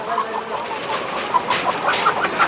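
Hens in H-type layer cages cluck in short, scattered bursts over a constant noisy poultry-house hum, with several birds calling close together toward the end.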